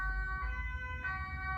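A siren wails steadily in the distance, faint and muffled, with a low rumble of traffic underneath.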